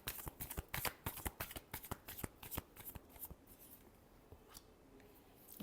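Tarot deck being shuffled by hand in a quick run of crisp riffling card slaps that thin out and soften toward the end, close and alone without talk.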